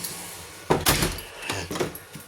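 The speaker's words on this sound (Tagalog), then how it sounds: "Sinarado ko na pintuan." A front door of a home in the UK swings shut, giving a near, solid thump and a short clatter of latch and frame, followed by a few softer knocks and no talking.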